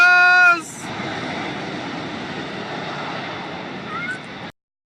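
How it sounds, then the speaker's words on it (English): Boeing Dreamlifter cargo plane taking off, a steady broadband jet roar heard from a distance, sustained and fairly even for several seconds before cutting off abruptly. "This is a once-in-a-lifetime chance to see one of the 4 Dreamlifters that they have take off to go pick up parts to make the Dreamliner."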